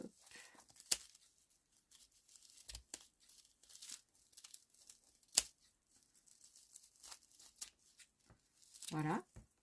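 Scissors cut through crinkly material in a quiet room, making a series of short, close snips and rustles spread irregularly over several seconds, ending with a louder crumpling burst.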